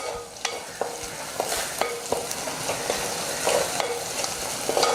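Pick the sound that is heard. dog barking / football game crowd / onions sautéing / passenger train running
onions sautéing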